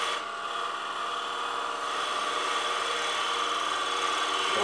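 Steady close-up hiss and whir of a wood lathe making a bevel-rubbing cut with a Hunter Viceroy turning tool, a continuous even scraping drone with no pauses or talk.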